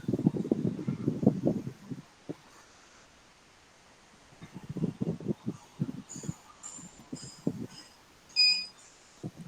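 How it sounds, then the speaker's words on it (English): A detector's beeper gives a string of short, high electronic beeps, some doubled, close by and fairly clear, with a voice talking before and between them. "Ah, there goes the beep."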